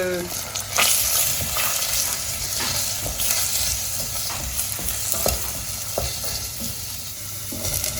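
Onion and carrot sizzling and crackling steadily in hot oil, with occasional stirring scrapes and clinks throughout.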